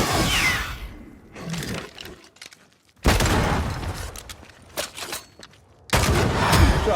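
Gunfire in Banishers: Ghosts of New Eden, a few loud, sharp bursts set against dark ambient game sound, with quiet gaps between the blasts.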